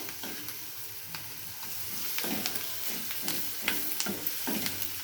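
Spices with turmeric powder sizzle steadily in hot oil as a tempering for radish palya, with a few sharp pops and the scrape of stirring at close range.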